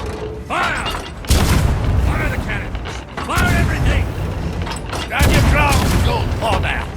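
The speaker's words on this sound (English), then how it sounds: "Fire! Fire the cannons! Fire everything!" Ship cannons in Sea of Thieves boom in three heavy blasts a couple of seconds apart, each a loud, rumbling burst that lingers, with creaking and shouted voices between the shots.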